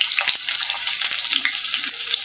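Onions fry in hot oil in a wok, giving a steady, close sizzle with light crackling throughout.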